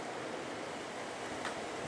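Strong wind blowing outdoors on a windy day, a steady loud rush buffeting the microphone with no pauses and no talk.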